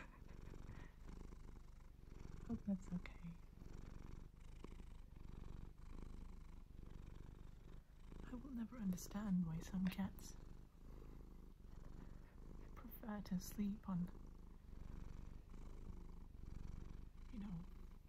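A cat purrs softly and steadily close by while someone talks gently over it, with soft scratching and handling sounds in an intimate, quiet setting.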